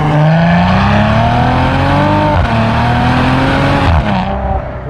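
A Maserati Quattroporte luxury sedan with turbocharged engine accelerates hard in first gear, its loud exhaust note rising steadily in pitch up to a gear change near the end, close and continuous with no voices.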